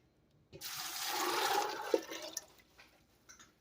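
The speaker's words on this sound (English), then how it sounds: "And then you'll want to add your 3 quarts of water." Water pours into a pot of beans in a burst for about two seconds, splashing and gurgling, then tapers off into a few scattered drips and clinks.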